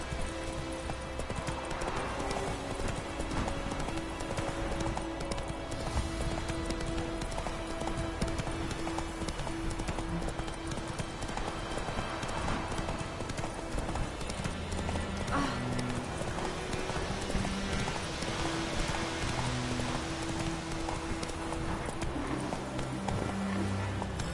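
Roach, a horse in The Witcher 3, gallops in a steady, continuous clip-clop of hooves throughout, mixed with game background sound and a faint whinny.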